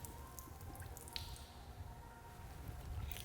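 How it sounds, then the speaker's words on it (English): Excess water drains from an RV water hose on a Winnebago Travato, making a steady, close gurgling and dripping wash with occasional small splashes. "So pull the handle and just let that extra water come out."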